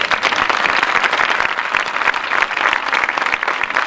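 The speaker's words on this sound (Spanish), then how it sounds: "Para ellos un gran aplauso." A crowd at a tribute event during the 1993 Fiestas del Pino breaks into loud, dense applause that holds steady throughout, with no voice standing out above it.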